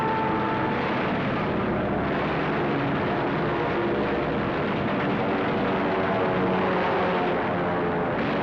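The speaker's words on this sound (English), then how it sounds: "50 United States dive bombers were hurtling in from the sky" Aircraft engines of US dive bombers roar loudly and continuously as the planes dive in during the Battle of Midway. The sound is a dense, droning rush with no pauses.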